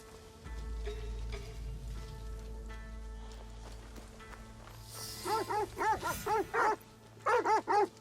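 Several dogs bark in bursts in a game set in feudal Japan. Two quick volleys of sharp, fairly close barks come over a low rumbling ambience after a quiet stretch.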